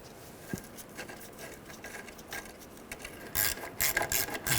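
Bolts are tightened on a rear ABS wheel speed sensor bracket of a 2003-2008 Subaru Forester, with quiet intermittent ratcheting that grows into a louder run of clicking near the end.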